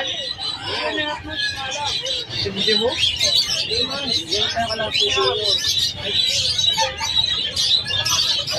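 Parrots, including Lutino Opaline hens, chirp and squawk at a busy Malabon pet market, bright repeated calls from several birds mixed with crowd chatter and someone talking nearby.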